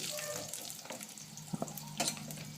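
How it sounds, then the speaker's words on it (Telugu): Mustard seeds, urad dal and chana dal frying in oil for tomato chutney: a quiet, steady sizzle with a few sharp pops and crackles toward the end. "ఆవాలు వేసుకున్న తర్వాత మినప్పప్పు పచ్చెనపప్పు వేసుకొని ఫ్రై అయ్యేంత వరకు"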